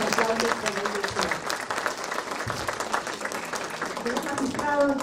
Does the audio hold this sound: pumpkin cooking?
no